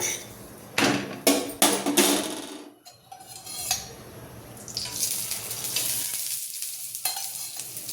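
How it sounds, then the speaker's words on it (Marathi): A puran poli roasts on both sides in a hot pan, giving soft sizzling over a textured background. Sharp scrapes and turning knocks from the pan cut through it, and a brighter hiss swells toward the end. "आता आपण हिला आपण छान दोन्ही साईडनं भाजून घ्यायचं"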